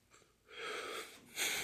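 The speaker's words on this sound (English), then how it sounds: "I apologize for yawning." A man yawns, a drawn-out breathy exhale that rises, dips and swells again, heard up close with no talk.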